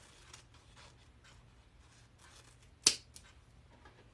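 A single quick snip of scissors through thin 2.5-inch ribbon, a sharp close crisp cut followed by a faint second rustle, over quiet room tone.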